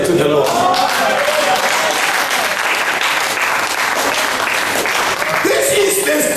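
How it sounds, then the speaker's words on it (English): A church crusade congregation claps steadily and continuously, a dense wash of many hands close by, with voices faintly mixed into the clapping throughout. "clap your hand to the Lord"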